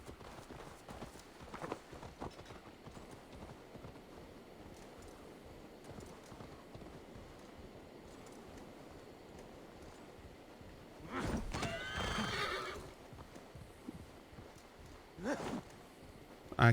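Falcor, a horse in Assassin's Creed Valhalla, trots with steady clip-clop hoofbeats, then a louder burst of galloping and a short whinny near the end, with a sharp thump closing it out.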